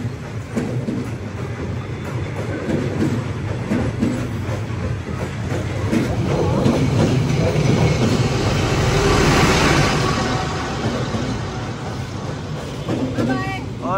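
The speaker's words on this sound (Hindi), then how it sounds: "काफी वेट करने के बाद ये ट्रेन आ गई है भाई" A train rolls slowly through the narrow train street in Hanoi, a low rumbling roar that swells and fades close by, with faint clattering and a crowd murmuring under it.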